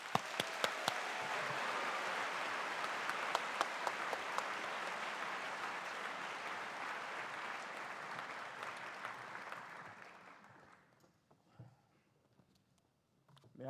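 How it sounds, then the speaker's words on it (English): Large audience at a new student orientation lecture event applauding a professor, a broad, steady roar of many hands with a few sharp nearby claps, holding for about ten seconds, then fading into near silence and faint stray sounds. "please give a round of applause to and welcome our speaker"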